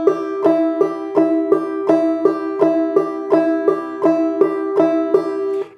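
Clawhammer banjo played in a double thumbing pattern, a steady string of plucked notes with every downstroke and upstroke sounded, bright, close and even in rhythm, alone with no talk.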